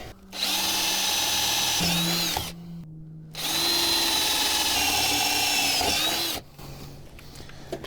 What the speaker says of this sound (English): it's time to drill a couple holes